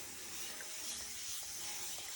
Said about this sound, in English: I use a little spray bottle like this